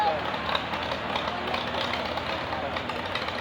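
Steady engine chug of a 1936 Farmall F12 tractor rolling in a steam show parade, a continuous low, slightly knocking run heard at moderate distance beneath someone talking over it.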